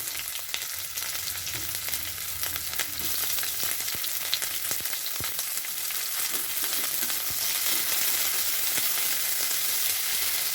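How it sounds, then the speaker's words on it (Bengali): Onions fry in hot oil in a wok with a dense, continuous sizzle that holds steady and close throughout, with only faint stirring scrapes and no talking. "ভালো করে এটাকে নাড়িয়ে চাড়িয়ে ভেজে নিই"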